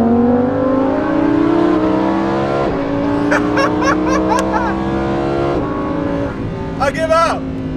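Lamborghini Huracán 610-4 and Huracán Performante race head to head in a roll race, engine notes climbing loudly through the revs with audible gear shifts and a continuous close, roaring drone.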